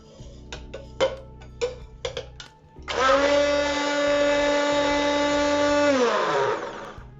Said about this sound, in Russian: После этого берем обычный блендер